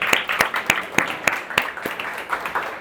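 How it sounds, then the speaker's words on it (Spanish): A church congregation applauds at a Christian service, with distinct sharp claps in a steady rhythm of roughly one every third of a second over a softer bed of scattered clapping, moderately loud and close. "Un aplauso a los que sí se la saben."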